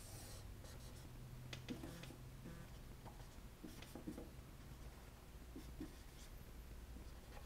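Pen or pencil scratching on paper while an angle is drawn and its points are labelled by hand for a geometry lesson, a steady stream of quiet, close strokes and ticks with no talking.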